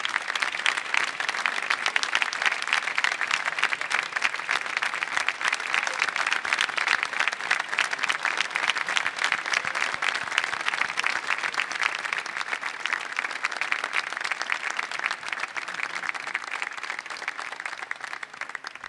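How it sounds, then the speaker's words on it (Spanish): Sustained audience applause fills a gala hall for the twentieth-anniversary celebration of a murga troupe, dense and steady clapping at fairly close range that carries on without pause and tapers only slightly toward the end. "Un aplauso,"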